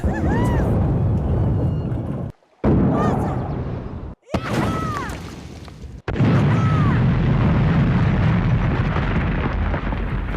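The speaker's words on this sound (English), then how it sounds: "just attach a bomb to any item and blow it to pieces" In The Sims 3, a bomb attached to an item detonates with loud, rumbling booms that fill most of the stretch, broken by two short silent gaps, while someone talks over the blasts.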